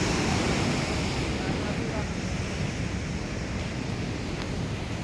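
Water rushing hard out of a drain outlet, a loud, continuous broadband roar like heavy surf with no breaks, filling the whole scene.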